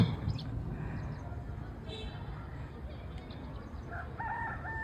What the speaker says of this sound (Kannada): ಕೋಳಿ ಈಗ ಕೂಗ್ತೈತೆ